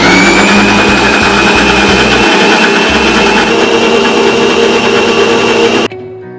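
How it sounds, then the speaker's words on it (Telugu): A kitchen mixer grinder runs on chili, salt and ginger-garlic paste for egg curry: a loud, close, continuous high motor whine with a churning low rumble that cuts off abruptly near the end. "కాస్తంత అల్లం ఎల్లిపాయ పేస్ట్ మెత్తగా గ్రైండ్ చేస్తాను"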